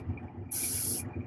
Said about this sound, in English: trying to get the airbrush in there